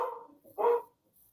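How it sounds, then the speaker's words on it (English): A dog barks twice, a short bark followed by a louder, sharper one, fairly faint and somewhat distant in an otherwise quiet room. "Somebody's dog was barking."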